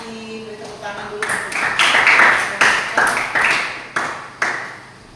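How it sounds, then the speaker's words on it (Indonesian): Students in a classroom clap their hands together in a few bursts of rhythmic claps, loud and near, then scattered single claps trailing off after a brief spoken line. "Beri tepuk tangan dulu."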